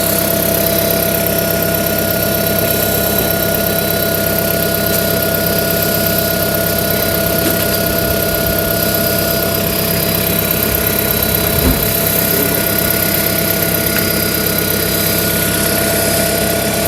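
A Toyota car engine runs at raised revs in a loud, continuous drone that stays steady with little change, close by and alone.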